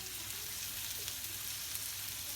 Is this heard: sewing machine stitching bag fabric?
no